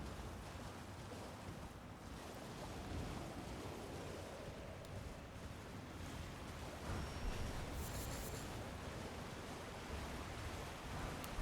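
A waterfall in the Elden Ring video game rushes as a steady, dense roar of falling water, even and continuous throughout with no voices.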